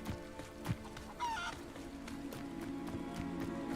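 A chicken in Hogwarts Legacy clucks and squawks with a burst of wing flapping, moderately close amid footsteps and ambient game noise.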